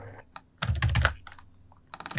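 Rapid clattering keystrokes on a computer keyboard during a game development session, bursts of close, crisp clicks separated by short pauses.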